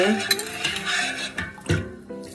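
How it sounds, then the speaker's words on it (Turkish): A pickle mixture being stirred in a pot for Şanlıurfa-style sour pickles, giving close, irregular scraping and clinking of a utensil against the pot with soft liquid sloshing, with no talk over it. "Şimdi bunu böyle bir karıştırıyorum"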